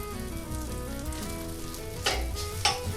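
Butter heating in a hot pan for toutons gives a steady close sizzle and fry, with a couple of louder crackling bursts near the end.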